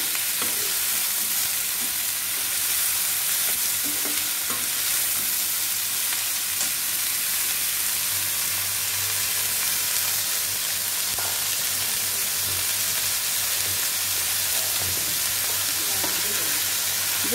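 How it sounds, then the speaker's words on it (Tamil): Steady, loud sizzle of food sautéing in an oiled pan, continuous hiss over a long stretch with occasional faint stirring clicks, close and without talk. "இது நல்லா ஒரு 2 மினிட்ஸ் நல்லா வதங்கட்டும்"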